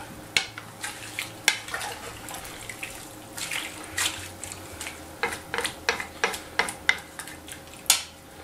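Red game meat is stirred in a marinade of vegetables and wine, giving a string of wet sloshes and sharp clinks that come in irregular bursts, close and fairly loud, with no talking.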